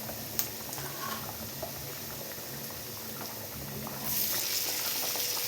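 Green tomatoes added to a pan of oil and turmeric for a Kerala thoran sizzle and bubble steadily, with a brighter, louder hiss surging near the end as the wet pieces hit the hot fat.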